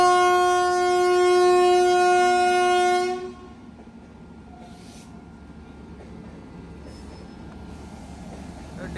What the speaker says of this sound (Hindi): सिग्नल मिल गया है ट्रेन को। ये देखिए